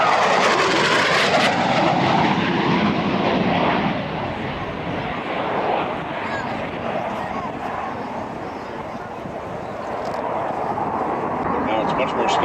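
Fixed-wing aircraft making a low photo pass at the Biggin Hill airshow, a steady loud engine roar that swells and fades slightly as it goes by, under a commentator's voice.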